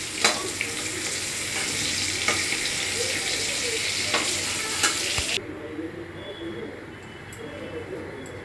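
Bay leaf, dried red chilli and whole cumin crackle in hot oil as a tempering for a vegetarian potato and pointed gourd curry, a loud, close sizzle with stirring clicks that suddenly drops to a quieter simmer near the end.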